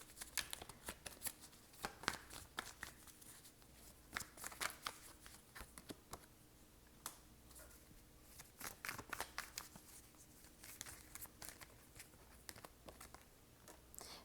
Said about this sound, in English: I'm gonna pull 2 more cards here.